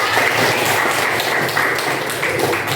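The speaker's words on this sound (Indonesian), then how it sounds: "Coba beri tepuk tangan." A classroom of students claps together for a classmate's answer during an economics lesson, a dense, steady patter of many hands that stays close and fairly loud for its whole length.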